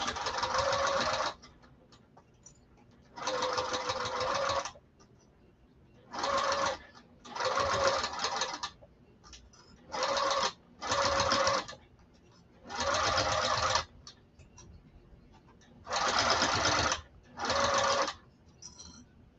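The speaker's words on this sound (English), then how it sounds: "I'm just going to stitch this across that long edge" A sewing machine stitching across the long edge of a bag gusset or strap, running in about ten loud, close bursts of steady whirring separated by short quiet pauses.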